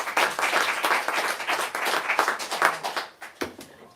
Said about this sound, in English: join me in giving Caroline and Kate a final round of applause